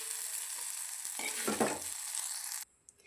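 Steady bright sizzling of onions and spices frying in a pan, with a few scraping stirs in the middle before the sound cuts off abruptly near the end.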